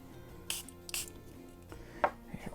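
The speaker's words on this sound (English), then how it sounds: "And we'll give this a spritz." A spray bottle mists water onto paper freshly rubber-stamped in Mint Macaron ink for a faux watercolor effect. Two quick, close hissing spritzes about half a second apart are followed by light tapping and handling sounds.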